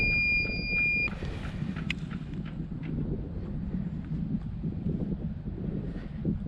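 A Minelab Equinox 800 metal detector gives a false-alarm signal outdoors: a steady two-tone electronic beep lasting about a second, then it cuts out, leaving wind buffeting and faint rustling.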